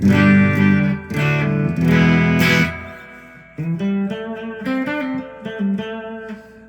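An electric guitar plays clean through an amp with reverb always on, first as loud ringing strummed chords, then as a quieter run of picked single notes and short phrases, close and alone.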